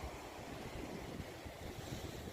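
Steady surf and sea waves wash along Padang beach on the West Sumatra coast, near the Al-Hakim mosque, a continuous broadband rush with wind buffeting the microphone throughout and no voices.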